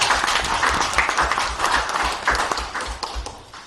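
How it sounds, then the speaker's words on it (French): People in a hall at a church bishops' assembly applaud a parish choir, with loud clapping and a few rhythmic, emphatic beats standing out as the applause rolls on. "On applaudit pour eux aussi."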